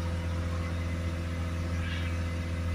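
A Peugeot Boxer 2.0 diesel engine runs at a held speed of about 2,500 RPM during DPF cleaning, producing a steady, even engine drone with no talking.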